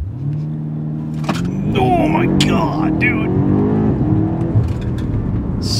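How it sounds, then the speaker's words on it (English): A BMW M5 CS, a 4,100-pound car, makes a launch-control start: a low engine drone swells into a loud, rising roar with gear shifts, heard from inside the cabin as an excited voice exclaims. "Launch control in this thing is absolutely violent."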